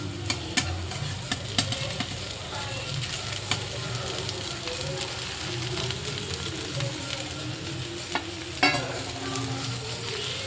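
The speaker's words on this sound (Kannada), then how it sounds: "ಈಗ ರೈಸ್ ಸೇರಿಸ್ತಾ ಇದ್ದೀನಿ." Cooked rice being stirred and fried in a pan for a home-cooked dish: continuous close sizzling with repeated scraping and clinking of the spoon against the pan, loud and steady throughout.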